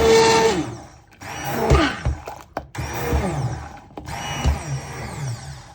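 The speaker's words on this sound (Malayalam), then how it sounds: "അതല്ല ബ്ലെൻഡർ ഉണ്ടെങ്കിൽ ഇതുപോലെ നമ്മളൊന്ന് ബ്ലെൻഡ് ചെയ്തെടുക്കണം." Electric blender pureeing cooked lentil soup, the motor whirring loudly in several bursts with brief pauses between them, close up and with no talk.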